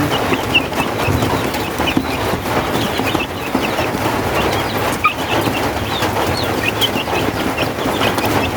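Sick baby chicks chirp in a coop, many small high peeps overlapping in a busy, continuous chorus at close range with no talking.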